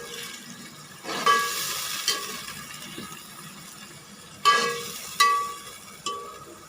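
Green masala of coriander, garlic and green chili being stirred in a pan for chicken liver, a soft scraping sizzle with a few sharper spoon strokes against the pan, close and moderately loud, no voices.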